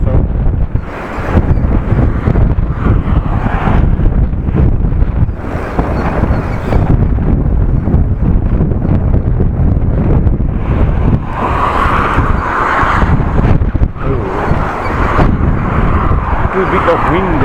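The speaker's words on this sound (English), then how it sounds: "A bit of wind" Strong wind buffets a bike rider, a loud, steady roar and rumble across the whole stretch, gusting slightly heavier toward the end.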